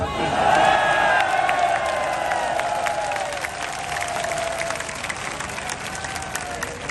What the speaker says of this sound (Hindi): कसूर के लोगों को तालियां भी याद आ गई